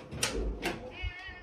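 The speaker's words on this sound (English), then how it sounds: "Oh, what a cute cat." A cat in the video game Growtopia meows a few times in quick succession, soft and fairly faint, with low background sounds under it.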